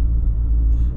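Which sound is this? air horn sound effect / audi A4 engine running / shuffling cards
audi A4 engine running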